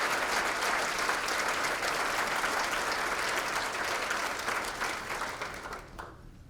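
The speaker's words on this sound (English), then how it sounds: "How about another round of applause for all of our finalists?" An audience at a character recognition awards event claps for the award finalists, a dense, sustained round of applause from a sizable crowd that holds steady, then thins and fades out near the end.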